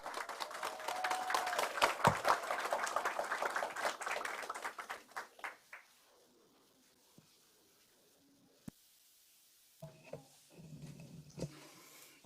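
A crowd at a Korean political campaign supporters' launch event applauds as a sponsorship chairman is introduced. The rather faint, dense clapping lasts about five seconds and then fades into near silence with a few scattered sounds.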